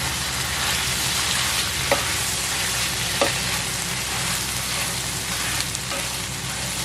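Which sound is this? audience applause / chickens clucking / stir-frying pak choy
stir-frying pak choy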